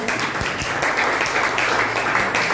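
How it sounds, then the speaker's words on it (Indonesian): Students at a workplace safety outreach session at SMK N 1 Bebandem break into applause, a dense, steady wash of many hands clapping at once, close and loud throughout, with no voices standing out. "Tepuk tangan buat kita semua."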